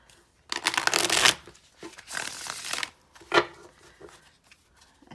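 Tarot cards are shuffled in several quick riffling bursts with short pauses between them, crisp and close.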